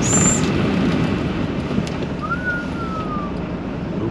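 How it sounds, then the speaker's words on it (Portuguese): Strong wind in South Dakota, a loud continuous rushing roar buffeting the microphone, with a faint whistling tone drifting through midway. "Olha o vento, olha, olha."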